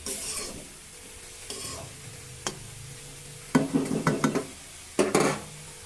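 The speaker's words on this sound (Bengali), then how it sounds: "এবার আমি মশলাটার সঙ্গে একটু ভাজি করে নিব" Spice paste of ginger with green and dried chillies frying in a pan: a soft low sizzle punctuated by clusters of sharp spatula scrapes and clinks against the metal, close and fairly quiet.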